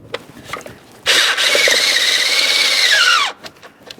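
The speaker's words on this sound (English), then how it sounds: "Align the mounting bolt hole, start in the mounting bolt, and snug it up." A power tool runs for about two seconds, loud and continuous with a high whining squeal, while a bolt on the EGR tube bracket of a 1998-2011 Ford Ranger with the 2.3L four-cylinder engine is snugged down; brief clicks come before and after.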